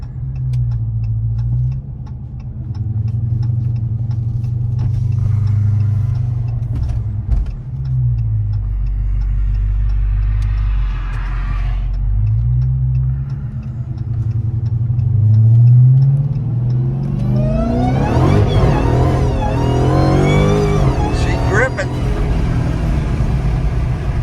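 A 900hp Jeep Trackhawk on street tires accelerates hard, its engine rumbling loud and close through rising gear pulls, then revving up sharply in a climbing sweep near the end.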